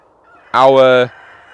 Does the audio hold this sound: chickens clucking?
yes